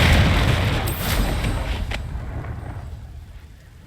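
A Confringo blast spell detonates in Hogwarts Legacy: a loud, close, booming explosion with heavy low rumble and crackling debris that gradually fades away over a few seconds.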